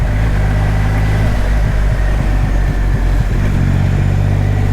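A Triumph Rocket 3 R motorcycle engine heard loud and close from the rider's position as it shifts down through the gears, a deep continuous roar with brief dips and blips between gear changes and strong wind rush.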